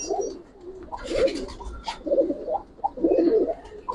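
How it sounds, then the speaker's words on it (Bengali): Pigeons in a loft, likely Giribaz pigeons, cooing close by in soft, repeated low bubbling coos with a few faint chirps around them. "কবুতর দুইটা দেখেন মাশাআল্লাহ"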